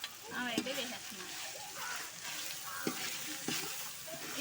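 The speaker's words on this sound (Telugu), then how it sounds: "ఇవన్నీ నీట్గా ఫ్రై అయిపోవాలండి" Green chilies and masala frying in hot oil for chitti muthyala pulao, a steady sizzle with a few sharp spatula scrapes and stirs near the pan, no talking.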